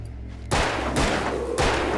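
Revolver shots ring out in the game Alan Wake: three loud, sharp reports, evenly spaced about half a second apart, each followed by a short echoing decay over a low background.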